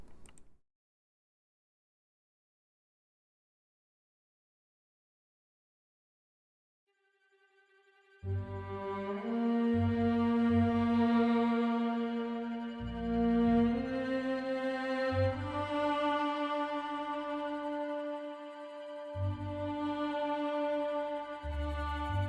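After several seconds of silence, a small group of sampled solo string instruments from a Sample Modeling library plays a slow, sustained melody with shifting harmonies, smooth and moderately loud.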